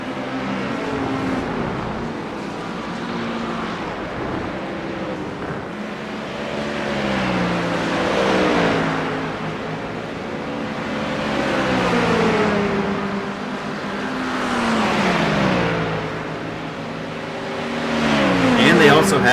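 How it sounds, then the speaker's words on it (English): Engine sounds of GT3 race cars lapping Road Atlanta in a sim racing game, a steady droning tone that rises and falls as cars accelerate and shift, with a commentator talking throughout. "he's got 5 laps to pass Max Poe to win the Pro-Am P1 for round 7 here at Road Atlanta"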